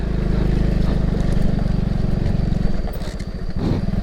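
A motorcycle on a steep mountain village road near Haniwung in Bogor, a loud close engine chugging and revving unevenly as it passes, rough low rumble dominating with no speech.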